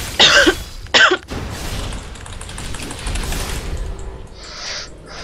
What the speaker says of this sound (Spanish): ¿Tienes tos?